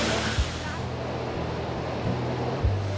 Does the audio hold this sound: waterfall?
yes